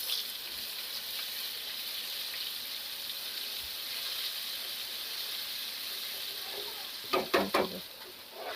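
Ginger, garlic and chili paste fries in a pan with a steady, soft sizzle and hiss throughout. A few brief clinks of stirring come near the end.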